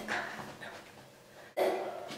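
A dog barks indoors, close by: a few sharp yelps early on, then a louder bark breaks out after a brief hush, with no talking.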